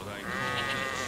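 A sheep in the medieval life-sim game Medieval Dynasty gives a single loud, wavering bleat close by, lasting about a second.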